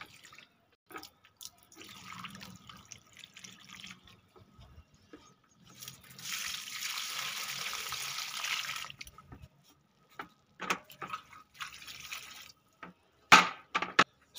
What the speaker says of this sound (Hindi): तो गाइस सब में भर के पानी डालते हैं, तो सारे गमलों को मतलब फुल भर देते हैं।